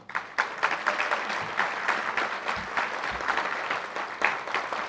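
An audience at an award ceremony applauds in a sustained round of clapping from many hands. The sound is fairly distant, with a few louder claps standing out along the way.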